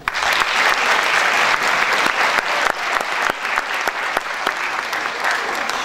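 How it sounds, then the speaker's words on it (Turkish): A concert audience at a spring concert applauds after the musicians are introduced, a loud, sustained roar of many clapping hands with a few sharper individual claps standing out. "Ve alkışlarımız devam ediyor."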